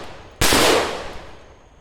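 A single suppressed rifle shot using Tula 55 grain ammunition through a HUXWRX Blastphemy muzzle device, a sharp loud crack followed by a decaying tail.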